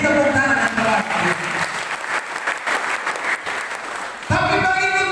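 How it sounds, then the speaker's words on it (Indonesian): Church congregation at an evangelistic revival service breaks into loud applause, dense clapping that swells and fades in the middle before voices return strongly near the end. "Beri tepuk tangan yang baik."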